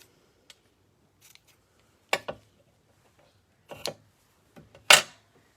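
Scissors trimming the ends of a satin ribbon bow on a handmade card, heard as a few sharp, close snips spaced apart in an otherwise quiet room.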